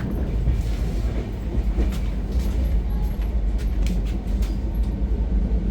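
The Mumbai Rajdhani train runs at speed through Dadar station, giving a loud, steady rumble with rhythmic clicking of wheels on rail joints throughout.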